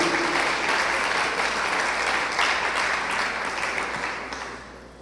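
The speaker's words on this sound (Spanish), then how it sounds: "Sí, aplaudan con gozo y alegría." A church congregation claps in sustained, dense applause that holds steady, then tapers off toward the end.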